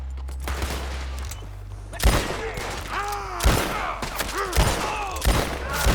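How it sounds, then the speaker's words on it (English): Repeated gunfire from the video game Red Dead Redemption II, sharp loud bursts and volleys landing in clusters over a steady low in-game drone, with one or two whooshing tones between the shots. "Go ahead, keep shooting at me."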